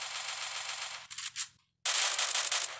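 Rapid automatic gunfire from a shooter video game, loud continuous bursts that briefly break off into a few scattered shots and a short silence before another sustained burst resumes.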